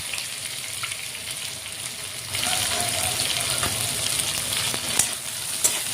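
Spice paste with green chilies and garlic frying in a pan for a fish-head and eggplant dish: a continuous close hiss and sizzle that grows louder partway through, with a few faint clicks and no talking.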